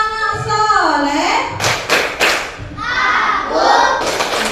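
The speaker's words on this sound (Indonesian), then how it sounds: "Tepuk anak soleh." A group of children clap along with a rhythmic classroom chant, sharp hand claps punctuating a singing voice that leads the chant, with crowd murmur underneath.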